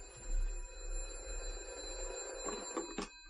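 A telephone rings indoors with a moderately loud, steady electric bell tone lasting a few seconds, with faint room noise around it.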